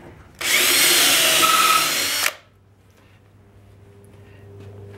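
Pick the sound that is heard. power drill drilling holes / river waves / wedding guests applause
power drill drilling holes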